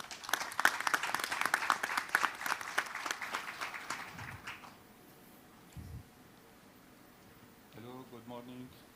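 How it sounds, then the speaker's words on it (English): Audience applause welcoming the Minister of Health of Tunisia at the World Bio Summit 2022, a dense, loud burst of clapping for about four seconds that fades, followed by quiet room sounds and a brief voice. "let's welcome our minister with a big round of applause."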